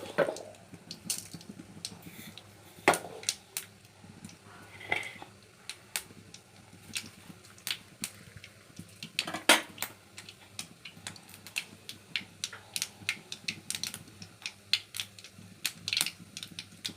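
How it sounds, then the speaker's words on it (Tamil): Mustard seeds splutter in hot oil with sharp, irregular pops and crackles, some louder and some faint, spread unevenly over a quiet background with no voices. "எண்ணெய் ஊற்றிருக்கிறேன், கடுகு போட்டிருக்கிறேன்,"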